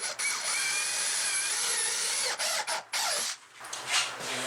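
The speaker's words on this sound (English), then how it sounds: "Get a pilot hole cut first here." A drill bores a pilot hole through wood while building closet shelving. It makes a thin, steady whine with a high tone, then a few short stops and restarts near the end, at moderate volume.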